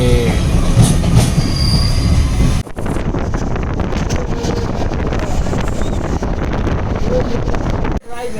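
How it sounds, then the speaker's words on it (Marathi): A train pulling out of Khed station, with a steady loud rumble of rolling wheels and rail noise, continuous throughout with brief dips, some wind buffeting on the microphone. "खेड स्टेशनहून आता ट्रेन निघत आहे"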